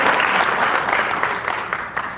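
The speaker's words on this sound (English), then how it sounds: "Thank you for your applause." Audience applause greets a wetland scientist at a local talk, a dense, even wash of many hands clapping that stays loud and steady before easing slightly toward the end.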